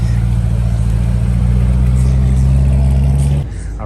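A Corvette on TE37 wheels pulls away from a car meet, its engine a loud, close, steady low rumble that cuts off abruptly near the end, with people talking nearby.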